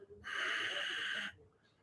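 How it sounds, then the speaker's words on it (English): Ujjayi breath drawn through a constricted throat in a Sanchin karate stance, one steady hissing, wheezy exhalation lasting about a second, close and fairly loud, with no talking. "the correct Ujjayi breathing"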